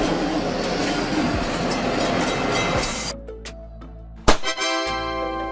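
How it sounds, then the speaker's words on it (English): High-speed train rushing past close by in a loud, dense roar that cuts off abruptly, followed by quieter rail clatter and a sharp knock. "High-speed train."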